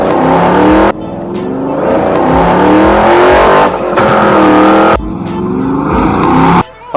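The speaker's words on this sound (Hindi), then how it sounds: "तो अब मैं अपनी गाड़ी को भगाऊंगा बिल्कुल 100 की स्पीड में" A Mahindra Thar engine revs hard and loud as the vehicle speeds toward a river, roaring continuously with rising and falling pitch through repeated gear changes and brief throttle lifts, close up with no talking.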